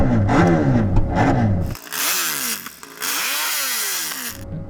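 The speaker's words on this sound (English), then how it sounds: "Danny, let's have a listen to your MotoGP bike." A Red Bull KTM MotoGP race bike engine revs hard and loud, with several sharp rising and falling blips and no other sound around it.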